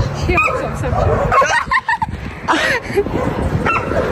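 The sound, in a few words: dog barking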